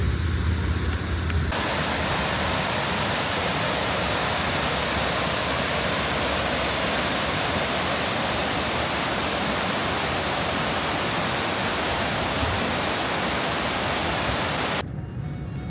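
A roadside waterfall in Switzerland roars as a steady, broadband rush of falling water, loud and constant throughout, cutting in abruptly after a quieter start.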